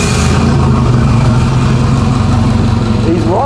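A 300 horsepower turbocharged French car engine runs loud and close, a steady dense idle with a rise in pitch toward the end as it is revved.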